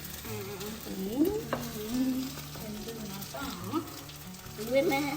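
Batter cooks in a pan while being stirred and turned with two spoons, soft sizzling under scraping strokes, with voices talking intermittently nearby.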